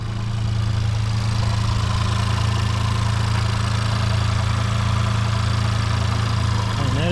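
A 2021 Honda Civic Type R Touring idles steadily at close range, a constant low engine hum with no speech over it.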